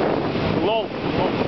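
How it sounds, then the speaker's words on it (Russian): The Pendovsky waterfall gives a steady, loud broadband rush of falling water, mixed with wind buffeting the microphone, while a voice speaks briefly. "Ролик Пендовский водопад."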